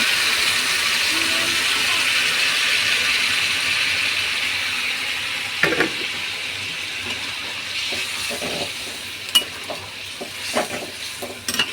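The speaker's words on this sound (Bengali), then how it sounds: "এবার গরম জলটা দিয়ে দেবো।" Hot water goes into a pan of soybean chunk and potato curry on a gas stove, a steady sizzling hiss that hushes as it settles, with scattered clicks and stirring taps of a spoon toward the end.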